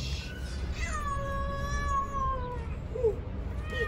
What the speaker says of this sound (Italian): il gattino è qui, che carino!